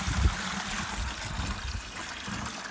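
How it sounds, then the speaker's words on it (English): Water drips and trickles from a chicken waterer into a cup set underneath, a soft, continuous splashing patter with a few louder drops, fairly quiet and with no voices. "a cup underneath to catch those drips that come from the chicken hydrate"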